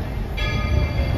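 Walt Disney World Railroad steam train at Main Street Station in the Magic Kingdom, heard as a loud, steady rumbling roar of the moving locomotive with a ringing bell tone joining partway through.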